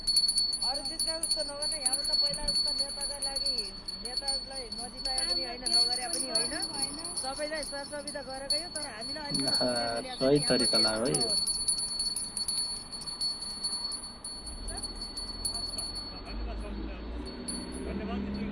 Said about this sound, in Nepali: घण्टी जनतालाई नै बजाउन लाउनु भएको छ